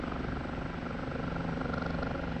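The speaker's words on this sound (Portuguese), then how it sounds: "É uma delícia de voar esse helicóptero" An OH-58D Kiowa light helicopter flies in the DCS flight simulator, giving a steady, fairly quiet rotor drone with a constant whine throughout.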